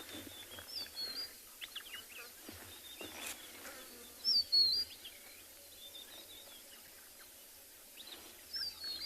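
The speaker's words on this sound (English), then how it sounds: "that's where we are hearing these little frogs calling all the time" Small frogs call near a waterhole in the South African bush on a morning safari, faint scattered chirps and clicks over quiet ambience.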